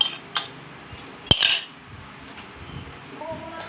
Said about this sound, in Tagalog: Haluin mo lang. Haluin.